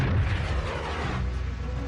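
A WWII anti-tank rocket of 140 mm, fired at a tank, gives a loud, close boom that rolls into a rumbling blast and then a sustained roar that fades over about two seconds.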